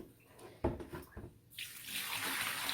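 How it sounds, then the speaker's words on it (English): Water gushes from a tap into a sink holding thrift-store doll clothes, starting with a few handling knocks and clunks, then a steady close rush of running water. "I rinse all the clothes individually under the running water"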